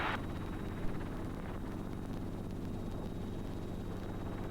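Steady, loud rotor and turbine drone inside a helicopter cabin in flight over Idaho, continuous and even with no talk.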